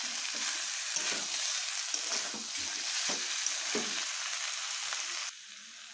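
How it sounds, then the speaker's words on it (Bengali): Fried vegetables and spinach sizzle softly in a pan as a spoon stirs them, with repeated scraping strokes over a constant frying hiss that suddenly drops quieter near the end. "সব একসঙ্গে একটু নেড়ে নিচ্ছি।"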